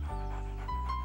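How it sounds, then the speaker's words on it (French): A guide dog that leads a blind person pants up close in a cartoon. Two quick, rhythmic breathy huffs are heard clearly, with no voices. "Eh bien, Caillou, je suis aveugle et Benjamin est le chien qui me guide."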